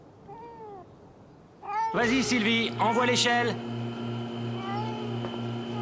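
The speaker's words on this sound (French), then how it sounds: "on va aller chercher ton chat dans cet arbre" A cartoon cat stuck in a tree meows repeatedly, thin cries early on, then louder drawn-out wails and caterwauls while people speak French over a steady background hum.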